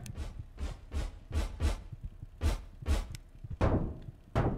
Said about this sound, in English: I heard his footsteps.